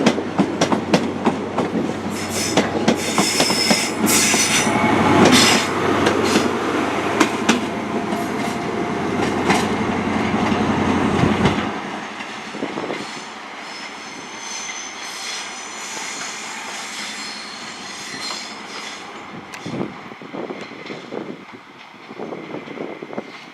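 A train passes at Plymouth station with a loud, sustained rumble and hiss of engine and wheels for about twelve seconds, then fades to a lower, quieter running noise with scattered clanks.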